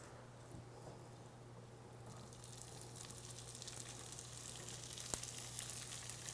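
Corn sizzles in melted coconut oil in a skillet, a quiet steady frying hiss that grows a little brighter midway, with a faint low hum running underneath and one sharp tap near the end.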